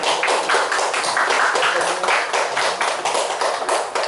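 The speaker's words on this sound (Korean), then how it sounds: "큰 박수로 와주시면 감사하겠습니다" An audience at a human rights and peace forum claps for a speaker coming up, a close, rapid flurry of individual hand claps that holds steady throughout.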